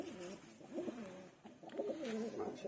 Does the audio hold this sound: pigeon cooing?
yes